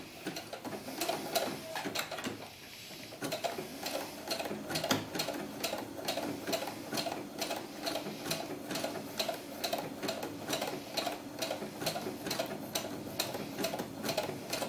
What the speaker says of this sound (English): And I'm just going to use the factory setting and just sew.